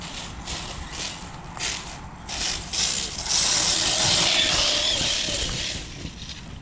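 Gears and differential of a metal-geared RC car grinding and ratcheting while driven over rough terrain, a continuous harsh mechanical whir and rattle that swells louder midway, with no talk.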